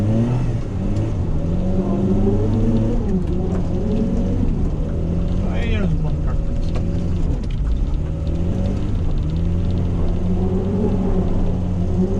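A car engine revs and drones in the middle of a road while the car drifts in circles. The engine pitch rises and falls in long sweeps, loud and steady, with a brief squeal partway through and no voices.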